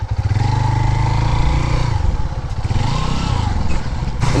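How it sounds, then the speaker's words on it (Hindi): A 150cc motorcycle rides through sand, its engine a loud, close, steady chugging drone that shifts pitch as it passes. "ये 150 सीसी बाइक है ना, ये बड़े मज़े से इधर से गुजरती है"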